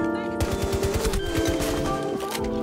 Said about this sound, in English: aka the Sterling SMG, has an abysmally slow fire rate, but very low recoil to compensate